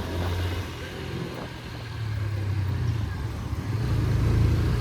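A 2025 TVS Apache RTR 160 4V, a 160cc motorcycle, gives a steady low engine drone while riding in the city, swelling louder toward the end.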